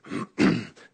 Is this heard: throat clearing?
yes